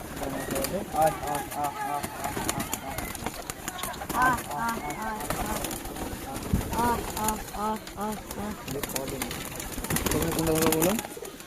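Pigeons in a loft coo steadily in overlapping throaty calls, close and continuous, with wing flutters and shuffling, while people talk nearby.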